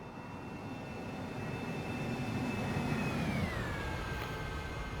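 Airbus A300-600F jet engines at takeoff thrust in X-Plane 11 give a loud, steady roar with a high whine that slowly drops in pitch as the aircraft climbs, with no speech over it.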